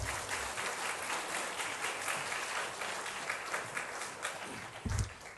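A church congregation claps to welcome a missionary pastor, a dense, sustained round of applause from many hands that fills the room, with a brief low thump near the end.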